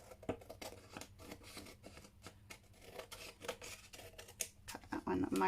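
A pair of scissors slices through off-white card with a run of soft, scratchy, repeated snips up close, closing with a louder rustle.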